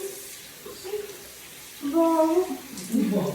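Running water splashing while someone is washed, a low steady wash of water beneath brief talking voices, close and moderately loud.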